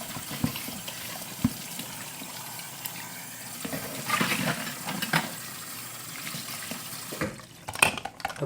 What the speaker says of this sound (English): Let me just rinse it off.